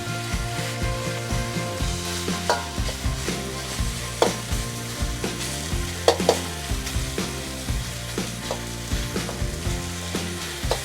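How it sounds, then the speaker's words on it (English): Sliced marinated beef sears in hot oil for a Chinese beef and cauliflower stir-fry, a constant crackling sizzle punctuated by repeated spatula scrapes and knocks, with a soft melodic background underneath. "Toss in the sliced marinated beef, stirring one side for just a few minutes."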